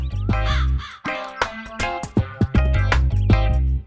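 A crow caws repeatedly in loud, close calls with a steady rhythm, layered over low background sound.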